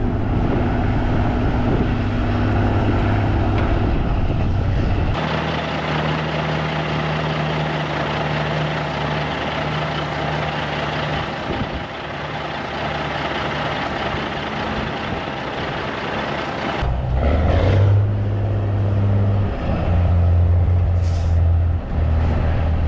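Kenworth Texas bed truck straining to pull out of a snowbank, its engine droning loud and steady at high load with a deep rumble, then easing off toward the end with a sharp air-brake hiss.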